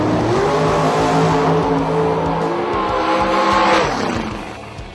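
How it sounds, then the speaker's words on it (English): A pair of drag race cars launch hard down the strip at a spring drag racing event, engines roaring loud and close. The roar climbs in pitch, then drops away near the end. "In the first pair of semifinals, Alford and Brannon raced each other."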